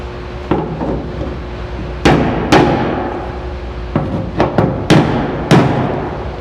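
Several sharp metallic brass hammer strikes on metal during fuel pump replacement on a 1997 Ford Taurus, at irregular intervals, loud and close, with brief ringing decay and quiet pauses between blows.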